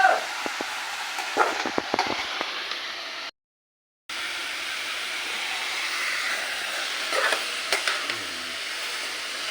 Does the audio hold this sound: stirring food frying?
yes